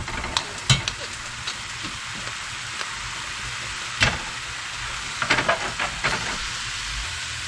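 Ground beef returned to a pan with cabbage for Bavarian-style stuffed cabbage, frying with a steady soft sizzle and scattered clinks and scrapes of stirring, no speech.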